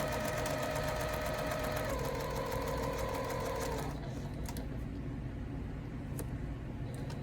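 A sewing machine stitches a 5/8-inch seam on a pillow, its needle whirring in a fast, steady mechanical buzz that runs close and continuous, then eases to a lower hum.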